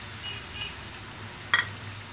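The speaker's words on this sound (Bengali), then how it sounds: "এখন এগুলোকে আমি একটু খুব ভালো করে কষিয়ে নিব" Turmeric and chili powder frying with poa fish in a pan, a soft steady sizzle close by with a sharp metallic scrape of a spoon near the end.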